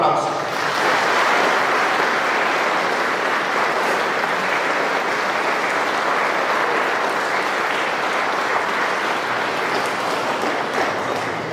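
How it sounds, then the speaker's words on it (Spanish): Wedding guests in a church applaud the newly presented married couple, a long, even roar of clapping that holds steady and loud for over ten seconds with faint voices mixed in. "Les damos un fuerte aplauso."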